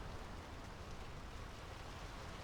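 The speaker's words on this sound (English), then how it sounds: "The rain's picking up." Steady rain falls in the video game Draugen, a dense, even hiss that holds at the same level from start to finish with no voices over it.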